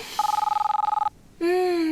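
A trilling electric doorbell rings loud and close for about a second in a home where visitors arrive, with a rapid fluttering pulse, then a brief pause and a second steady electronic tone.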